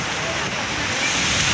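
Continuous broadband rush of the Lakkidi river flowing nearby, a steady watery roar with wind buffeting the microphone and no clear talking.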